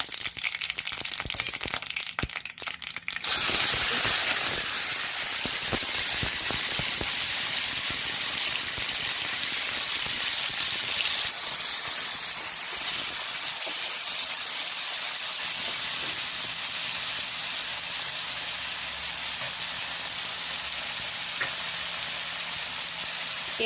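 Curry leaves hit hot oil already tempered with mustard seeds, cumin and asafoetida for sev tamatar sabzi, setting off a sudden loud burst of sizzling that settles into a steady, close, hissing fry lasting many seconds, with no talk.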